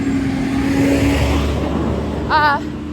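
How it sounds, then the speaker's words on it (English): A big truck rolls past close by, a broad road roar that swells and then fades, with a brief wavering higher tone near the end. "there's a big truck coming"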